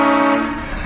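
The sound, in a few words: train horn played as a prank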